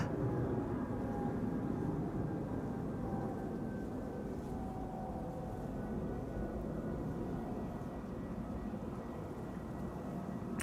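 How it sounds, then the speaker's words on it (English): A Boeing 777 wide-body airliner departing from Amsterdam Schiphol passes overhead as a steady, broad, distant roar that fades only slightly across the whole stretch, with no voices. "a Chinese triple passing overhead"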